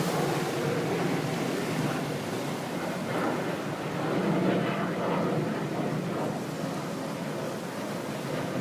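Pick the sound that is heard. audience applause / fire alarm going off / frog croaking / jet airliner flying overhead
jet airliner flying overhead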